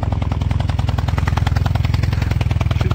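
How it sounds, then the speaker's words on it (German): Motorcycle engine at a classic and custom bike meet, a rapid, even, pulsing beat of firing strokes, loud and close, running steadily without talk. "Im Hintergrund hört man gerade etwas, das sanfte Säuseln eines interessanten Motors."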